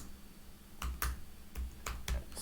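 Keystrokes on a computer keyboard during Python coding, a handful of separate clicks spaced irregularly with one firmer press of the Enter key, close and quiet with no talking.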